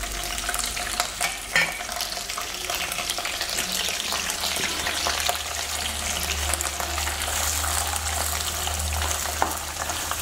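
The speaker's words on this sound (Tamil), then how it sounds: "க்ளீன் பண்ண கருவாடை இப்போ போடப்படல." Cleaned dried anchovies shallow-frying in oil, a steady dense crackling sizzle lasting throughout with scattered pops and faint stirring clatter, close and loud with no talk.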